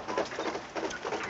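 Quail calling during banding, soft repeated cooing phrases close by in two short bursts, with no one talking.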